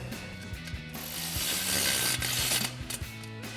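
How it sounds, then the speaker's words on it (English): A ratchet fitted with a 13 mm socket tightens a Flowmaster American Thunder exhaust tip on a Silverado 2500: rapid, close clicking pawl strokes in several bursts, loud and alone. "we'll go ahead and tighten down our tip with our 13 mil socket on our ratchet and a 13 mil wrench"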